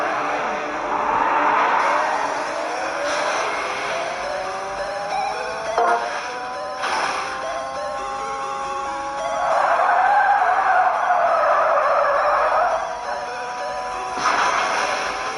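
Engines rev and whine with rising pitch in a Street Racing 3D mobile racing game, sustained and fairly loud, with a few thumps and bursts mixed in.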